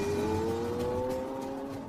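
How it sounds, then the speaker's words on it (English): Lamborghini Aventador on its final road test drive, a smooth rising engine tone held steady as the car pulls along a local road, heard fairly faint and continuous without any voices. "each Aventador must undergo one final phase: the all-important road test"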